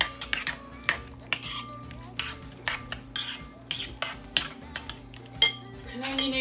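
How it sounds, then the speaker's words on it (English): Summer macaroni salad with red onion is stirred in a bowl, with a utensil making rapid, regular scraping clinks against the sides, close and crisp, amid a faint background hum. "I'm going to stir this up real quick"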